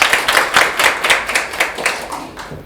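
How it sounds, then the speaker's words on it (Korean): A seminar audience gathered for a policy talk on the fourth industrial revolution welcomes Professor Ahn Sang-hoon of Seoul National University with brisk, rhythmic applause. The clapping is loud and close, with an even pulse, and eases slightly toward the end. "안상훈 교수님을 큰 박수로 맞이해 주시기 바랍니다"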